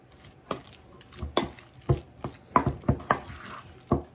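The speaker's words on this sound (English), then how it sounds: "we're going to take this and stir it up with that mayo" Vegetable pie mixture being stirred together with mayo in a bowl, about a dozen sharp scraping and clacking strokes of the spoon in an uneven rhythm, close and moderately loud.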